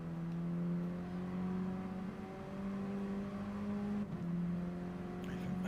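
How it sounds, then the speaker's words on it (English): Mini Cooper race car at Goodwood, its engine holding a steady droning note that sags and falters as it bogs down, heard from inside or near the car over broadband road and wind noise. "hear how slow Blackwell's car is. It sounds like it's bogging down."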